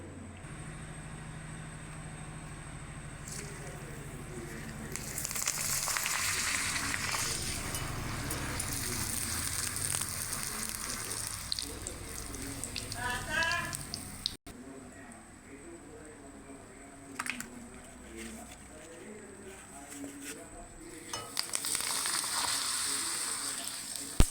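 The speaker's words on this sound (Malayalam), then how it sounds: "പപ്പടം ഒന്ന് വറുത്തെടുക്കാൻ വേണ്ടി പോവുകയാണ്" Pappadam frying in hot oil in a home kitchen gives a faint, steady sizzle with bursts of crackling, and a person talks over it at times.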